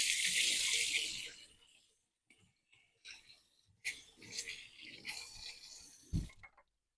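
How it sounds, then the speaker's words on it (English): A kitchen tap runs loudly as chocolate is rinsed from someone's hands for about two seconds, then stops, leaving quieter clatter and handling noises. "rinse off my hands here really quick"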